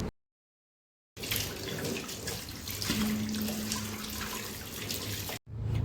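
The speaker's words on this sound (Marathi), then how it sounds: "मी बटाटे असे 2-3 पाण्याने स्वच्छ धुवून घेतलेले आहे।" Running water splashes steadily as potatoes are rinsed clean in a kitchen for sabudana vada, a continuous close gush with a faint tonal hum, preceded by a moment of silence.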